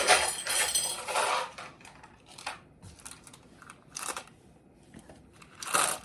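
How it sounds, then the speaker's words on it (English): Glass beads poured into an orchid pot while repotting, giving several bursts of bright, rattling clinks with brief quiet gaps between them, close and moderately loud. "now I'm going to put a little more of these glass beads in there"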